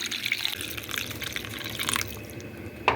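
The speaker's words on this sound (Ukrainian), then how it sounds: "І ще я вершкове масло додаю листочок лавровий і наливаю водичку." Water poured into a pot holding liver, butter and a bay leaf, a steady splashing stream for about two seconds that then thins to a few soft trickles and one last splash.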